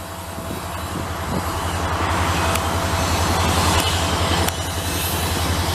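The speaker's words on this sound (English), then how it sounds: "I'm pretty sure this has got to be the same train." A Canadian Pacific local freight rolls through Lachine station in Montreal, a loud, close rumble of wagons with rhythmic wheel clatter and a few sharp squeals of wheels on rail, continuous and without talk.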